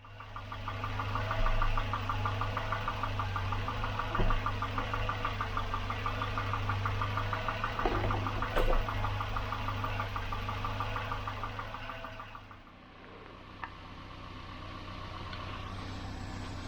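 A Volvo 240 engine idles steadily with the heater set to hot, giving a constant low hum with a light knocking texture. After about twelve seconds it drops to a quieter, thinner running sound.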